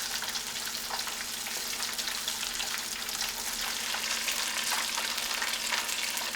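Beer-battered crawfish sizzling in hot frying oil, a steady close crackle and bubbling hiss throughout with no voices over it.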